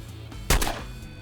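In a video game, the Aviator fires at Evans: a single sharp, loud gunshot cracks after a quiet lead-in, followed by a brief second burst and a fading tail.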